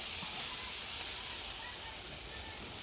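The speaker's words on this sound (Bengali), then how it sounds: "এইভাবে আরও কিছুক্ষণ ভাজতে হবে বেশ শুকিয়ে ফেলতে হবে" Malabar spinach fruit fries with coriander leaves in a pan, giving a continuous bright, hissing sizzle that stays close and even throughout.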